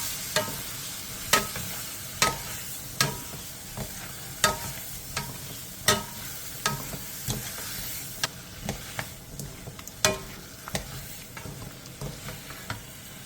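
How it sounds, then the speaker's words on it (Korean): Sundae, Korean blood sausage, stir-fried in a pan: a soft continuous sizzle broken by repeated sharp scrapes and clacks of a utensil stirring against the pan at an irregular rhythm, close and alone. "그 다음 순대를 넣고 2분에서 3분 정도 볶아주세요."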